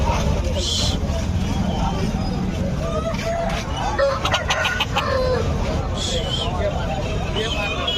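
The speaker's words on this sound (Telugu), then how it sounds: "ఇప్పుడు మనం వచ్చేసి కోడి దగ్గరికి వచ్చాం" Chickens and a rooster clucking and calling at a busy Sunday poultry market in Nellore, in short repeated bursts over a steady crowd babble, with people talking nearby.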